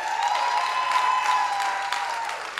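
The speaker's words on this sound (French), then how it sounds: "On les applaudit." Audience applause at a variety show, steady, dense clapping from a crowd that holds for the whole stretch with no voices, plus a faint sustained tone.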